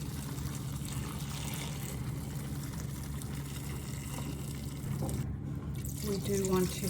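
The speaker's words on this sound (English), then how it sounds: "Cover that with water." Water pours steadily into a pot of chicken pieces, celery and carrot for bone broth, a continuous splashing rush heard close under a person talking.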